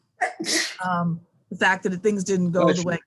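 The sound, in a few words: sneeze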